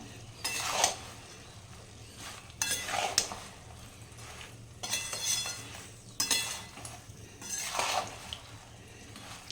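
A green chilli pickle mixture is stirred in a pan, bursts of scraping and clinking of a spoon against metal in several rhythmic rounds over a soft sizzle and a low steady hum, near and clear, with no talking.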